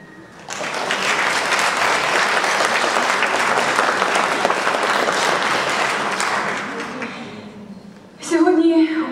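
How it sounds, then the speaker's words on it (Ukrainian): Concert audience applauding for a string ensemble from the Ivano-Frankivsk regional philharmonic: dense, sustained clapping that swells in after a moment, holds steady for several seconds, then fades as a voice begins speaking over the end. "І зараз я прошу щирих оплесків на вашу честь."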